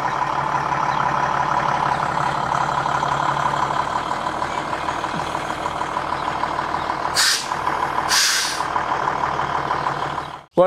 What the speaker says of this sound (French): on va demander à notre testeur, testeuse, d'avancer sur les cales